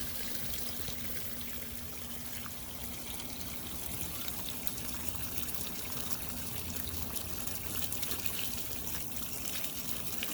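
Garden hose water rinsing a batch of husked black walnuts, a steady, close splashing and trickling wash that runs continuously without pause.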